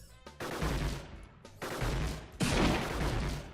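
Battle bots fire in the video game Gladiabots, three dense bursts of rapid gunfire, each starting sharply and rattling on for about a second, loud and close with no talk.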